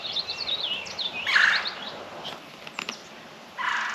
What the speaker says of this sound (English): I'm trying to video and take pictures of these red-bellied woodpeckers